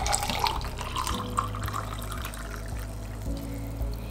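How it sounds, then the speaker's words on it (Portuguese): Warm water, 200 ml, poured into a cup while making homemade panettone dough, a steady close splashing stream that runs continuously for several seconds. "Aqui no copo eu vou colocar 200 ml de água morna."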